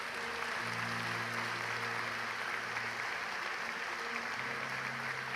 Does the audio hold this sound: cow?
no